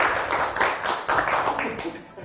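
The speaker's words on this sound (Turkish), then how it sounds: "Alkışlar niye kesiliyor?" Studio audience applauding on a Turkish TV word game show, a steady wash of clapping that swells and dips in bursts throughout.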